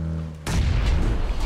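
A grenade explosion and gunfire in the battle-royale game PUBG: after a low steady hum, a sudden loud broadband blast hits, followed by a dense rumbling roar of booms and shots that continues to the end.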